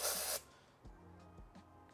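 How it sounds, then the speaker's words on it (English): White AMACO Velvet underglaze spray, applied up close over a dark clay body, gives one loud, close hissing burst lasting about a third of a second, followed by near quiet with a few soft knocks. "I get a white one of these, and I spray it up close"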